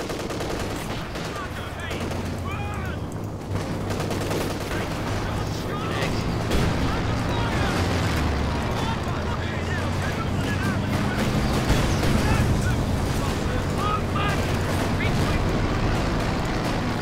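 Enemy gunfire striking a defensive emplacement in a World War II strategy video game, sustained rattling shots and rumbling blasts, with a voice talking over the battle.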